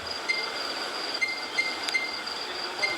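A ChS8 electric passenger train running in a train simulator game, heard from the cab as a steady rolling rush with faint periodic rail clicks and thin squeals, with no talking.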